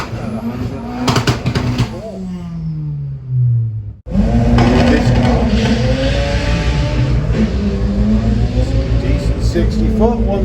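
A BMW drag racing car roars down the strip at Santa Pod, its engine rising in pitch through rapid gear changes, then cutting briefly before a loud, sustained rumble returns, with a commentator talking over it.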